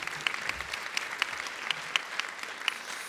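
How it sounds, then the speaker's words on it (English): Audience at a maternal and neonatal levels-of-care conference panel applauding, a steady wash of many hands clapping with crisp individual claps standing out, moderately distant and continuous throughout. "Please give our panel a round of applause."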